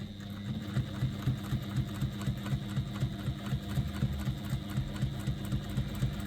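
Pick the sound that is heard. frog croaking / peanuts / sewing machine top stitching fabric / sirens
sewing machine top stitching fabric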